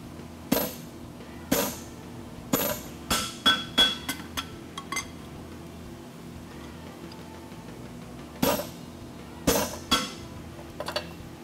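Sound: blacksmith hammering hot steel horseshoe on mandrel

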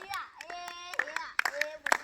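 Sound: people clapping hands

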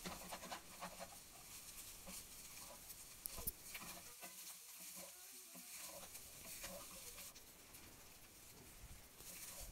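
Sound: stirring fried rice with soy sauce in pan

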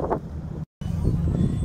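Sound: wind blowing outdoors by the lake shore

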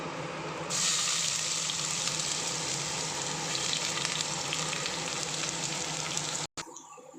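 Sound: onion and tempering spices frying in hot oil and ghee

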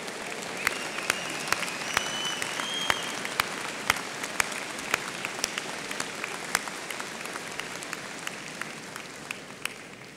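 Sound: applause

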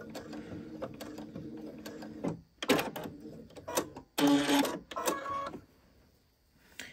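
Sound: sewing machine stitching fabric

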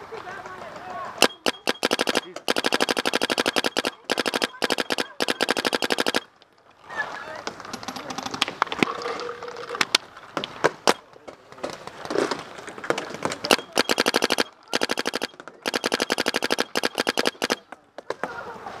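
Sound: paintball guns firing during a paintball game

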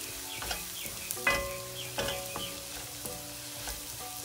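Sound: stirring coriander powder into mussel roast masala in pan

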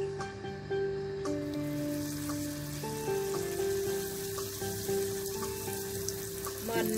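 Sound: corn fritters frying in hot oil

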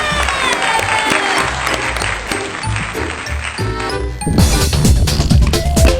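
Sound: audience applause

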